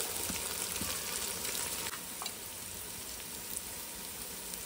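Ginger garlic paste frying in a pan, a steady loud sizzle with a few faint stirring clicks, no voices over it.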